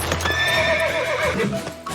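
A cartoon horse on a horse farm whinnies loudly with a long wavering neigh while hooves clop steadily underneath, close and continuous with no talking.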